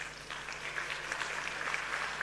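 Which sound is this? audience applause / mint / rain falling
audience applause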